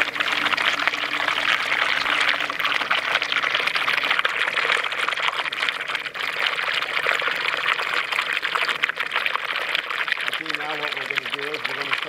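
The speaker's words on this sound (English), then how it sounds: "in the funnel feeder you can hear the gurgling sound." Water rushes and gurgles steadily through a Gold Grabber funnel feeder, a dense continuous flow loud throughout, with someone talking over it.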